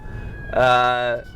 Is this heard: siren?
yes